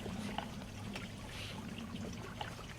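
A garden water feature trickles and splashes steadily, faint and continuous against a low background hum, with no voices.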